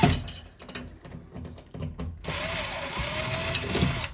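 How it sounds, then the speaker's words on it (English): Cordless power drill driving screws into a flat-screen TV wall mount, short whirring bursts and clicks close by, then a steadier sustained whine as the screw tightens. "if you just do it and go fast with the drill, it'll go ahead and tighten it up for you"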